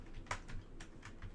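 Keys clack on a computer keyboard in a short burst of quick, irregular taps, close but soft, with no one speaking.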